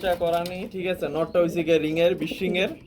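Domestic pigeons at a Bangladeshi pigeon farm coo in repeated throaty phrases, loud and close, while someone talks over them.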